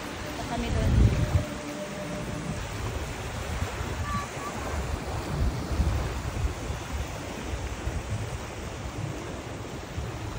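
Sea waves wash onto a resort beach at dusk, a broad continuous surf rush with some wind noise on the microphone and occasional voices nearby.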